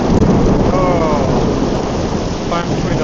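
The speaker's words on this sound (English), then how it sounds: "The time between the lightning and the thunder is pretty much instantaneous" Heavy rain pours down during an outdoor thunderstorm while thunder rumbles close by, loud and continuous throughout.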